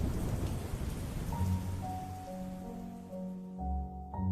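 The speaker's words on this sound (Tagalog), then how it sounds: "Dahil sa lakas ng ulan" Steady heavy rain hisses across the whole clip, dense and close, while low music tones hold underneath.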